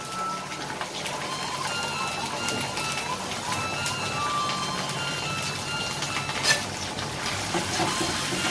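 Ginger and garlic paste fries in a pan while being stirred, giving a steady crackling sizzle with occasional sharp scrapes and clicks close by.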